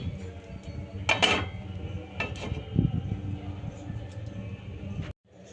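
A lid set onto a pan during dosa cooking on a medium flame gives a couple of sharp metallic clatters, the loudest near the start, over steady low stove and kitchen background.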